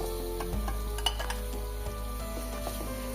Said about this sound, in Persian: گوشت رو هم با مواد تفت بدین تا جایی که رنگ گوشت عوض شه